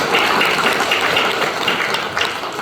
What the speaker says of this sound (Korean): 한번 격려의 박수하겠습니다.